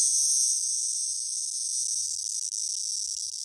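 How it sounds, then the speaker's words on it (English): A handheld male Neotibicen cicada gives a loud, close, continuous high-pitched buzz that fills the whole stretch, wavering slightly in intensity, with faint handling rustle underneath. "the little organ he makes that sound with when you kind of move him around"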